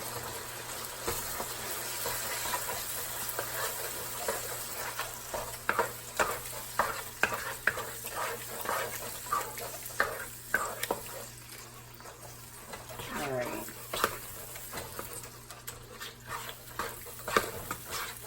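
Rhythmic scraping strokes as tomato paste is stirred into a sizzling mixture in a pan, close and steady with repeated scrapes over a frying hiss, a voice talking at times.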